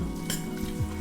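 Ground meat seasoned with chili powder browns in a pan, giving a steady close sizzle with a short scrape of stirring partway through.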